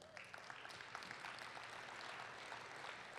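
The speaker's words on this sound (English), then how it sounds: "I just want you, once again, to give them all a big round of applause" Applause from an audience at an athletics Hall of Fame induction ceremony, honoring the inductees: a steady, dense wash of clapping that holds at an even level for about three seconds, with no clear voices above it.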